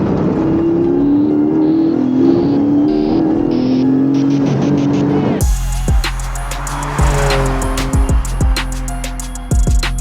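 A loud Porsche 718 GTS 4.0 engine roars and shifts through gears, then revs sharply in several quick bursts with a deep rumble, close and alone.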